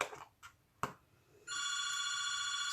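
A telephone rings indoors in a home, a steady electronic bell tone starting partway through after a few soft thumps and knocks, loud and close with no talking.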